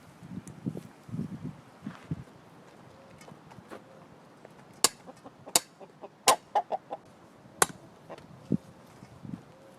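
Chickens cluck in a short burst of low calls near the start, then go on with sharp, loud squawks and clucks scattered through the rest, with no talk over them.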